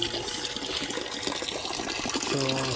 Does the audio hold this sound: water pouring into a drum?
yes